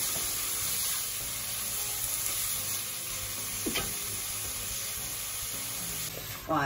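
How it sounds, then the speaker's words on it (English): Mixed peppers sauté in a pan with a steady close sizzle throughout, broken by a couple of brief scraping stirs. "Right, so these are sauteing down nicely"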